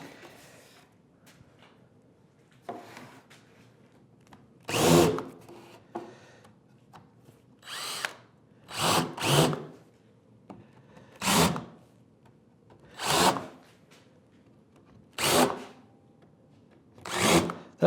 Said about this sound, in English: I'm going to countersink it from the underside.